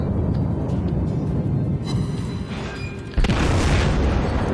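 Main guns of the battleship Wyoming firing in World of Warships: deep booming blasts over a constant low rumble, with one sharp, loud salvo late on followed by a heavy roar.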